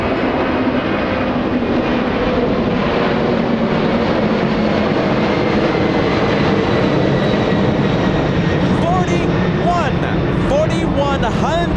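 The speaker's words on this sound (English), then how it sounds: "747 Heaven, are you ready? This is lifting off right now." A Boeing 747 powered by four CF6 engines takes off at Los Angeles International Airport, a loud, steady broadband jet roar that holds throughout with a faint whine on top.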